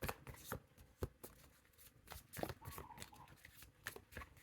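A deck of tarot cards is shuffled close up and quietly, with repeated riffling and soft flicking bursts that come at an uneven rhythm, and no one speaks.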